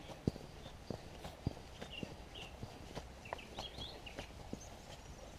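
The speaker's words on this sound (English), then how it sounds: "there's lots of horses up here, Gus, if I remember." Horse hooves clip-clopping on a walk outdoors, a loose, irregular series of sharp knocks at moderate distance, with faint bird chirps in the background.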